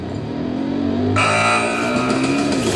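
Monster truck engines roar off the start line at a monster truck championship, a loud rising rev that surges sharply partway through and stays at a high, continuous roar.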